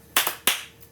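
Three or four sharp hand claps in a home kitchen, close and crisp, spaced unevenly about a third of a second apart, with no voices.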